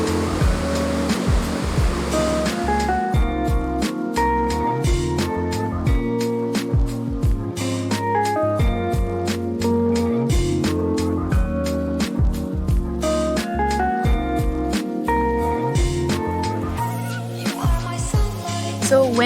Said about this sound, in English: This is Farm Waterfall, formed by layers of rocks